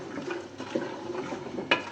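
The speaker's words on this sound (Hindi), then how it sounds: "मैंने अब इसमें थोड़ा सा पानी डालना है" Water splashes and gurgles softly as it pours into a pot of egg and white chickpea curry with green chilies and tomato puree. The pour is quiet, uneven and brief.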